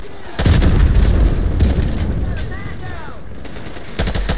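Loud, sustained automatic gunfire fills a Call of Duty: Modern Warfare Remastered battle, dense rattling bursts with sharp cracks at the start and end, under whistling and distant combat noise.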